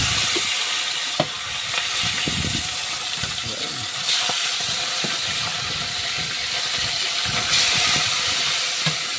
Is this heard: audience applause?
no